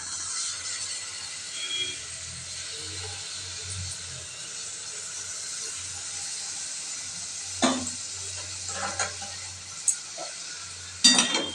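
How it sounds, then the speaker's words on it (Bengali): Grated bottle gourd is sautéed with spices in a pan, giving a steady soft sizzle and hiss throughout, with occasional clinks of a spoon against the pan near the end. "লাউটা দিয়ে খুব ভালোভাবে কষতে হবে।"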